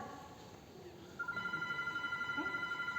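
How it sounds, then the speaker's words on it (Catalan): A telephone rings during an amateur stage play in Valencian, a steady repeating electronic ring that starts partway through and pulses evenly over faint room noise in a theater hall. "El telèfon, agafa'l."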